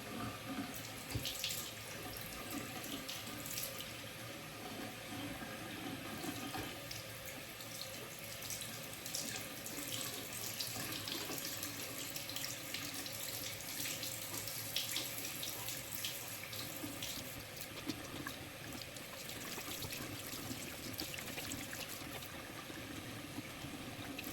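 Tap water runs steadily and splashes as soap is rinsed out of hair during a wash, a continuous close hiss with small splattering changes and no talking.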